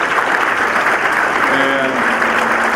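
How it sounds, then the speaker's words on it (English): Audience applause at a high school senior awards ceremony, sustained dense clapping from a crowd filling the room, with a brief voice speaking over it. "let's give them all a nice big round of applause"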